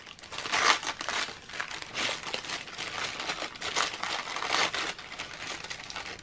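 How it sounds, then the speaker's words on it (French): Glossy magazine paper torn along its edge for recycled envelopes, a close, continuous crinkling rip in several uneven pulls over a few seconds, with no voices. "J'arrache le bord."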